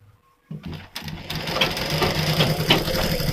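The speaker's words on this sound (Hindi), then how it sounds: "पहले सिलाई लगाता हूँ" A sewing machine stitches a Katori cut blouse, starting after a brief quiet and then running in a steady, close, rapid whirring rhythm.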